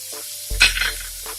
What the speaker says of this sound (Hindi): अच्छे से इसे भी फ्राई करना है।